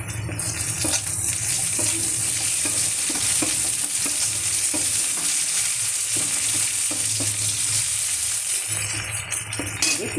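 Onions sizzle steadily in a hot pan of oil, with a spoon scraping and stirring through them in irregular strokes; the frying hiss stays loud and constant throughout, with no talking.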